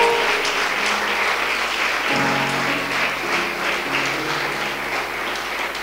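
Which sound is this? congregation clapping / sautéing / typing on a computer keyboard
congregation clapping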